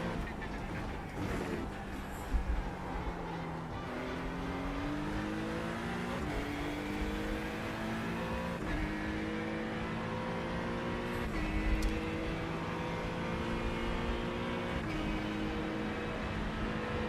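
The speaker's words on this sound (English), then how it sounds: "listening to the tyre skid sound." Racing car engine in an iRacing sim race drones and shifts pitch continuously, with tyre squeal layered over it, steady and fairly loud throughout.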